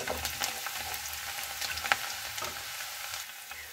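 Chopped garlic sizzles in hot oil in a pan, with cumin already in, for a winter chicken curry; a steady close crackle runs throughout with a few sharper pops and no voices.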